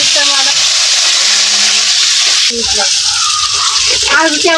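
Potatoes fry in hot oil with bay leaf and cumin, giving a steady, close sizzling hiss that runs throughout while a person talks over it.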